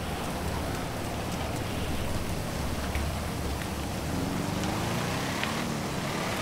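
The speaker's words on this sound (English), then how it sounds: "And the rain's probably not exactly the most help either." Steady rain falling in a driving video game, heard as a constant broadband hiss of rainfall with a low engine-like rumble underneath and a brief rising whine partway through, no talking.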